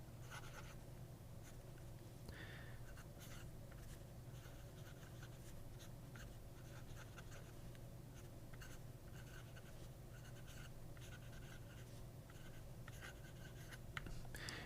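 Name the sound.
writing with a pen on Tomoe River paper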